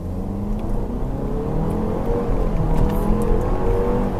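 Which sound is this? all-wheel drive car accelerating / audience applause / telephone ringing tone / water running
all-wheel drive car accelerating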